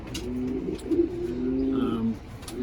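Soft, close cooing of pigeons in a small backyard loft housing about twenty birds, a few throaty rolling calls overlapping with faint chirps in a quiet room.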